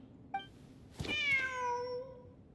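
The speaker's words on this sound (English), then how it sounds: "Wait, there it is! The cat!" A cat in the video game Genshin Impact lets out a short chirp, then a clear drawn-out meow that falls in pitch, heard alone against a quiet background.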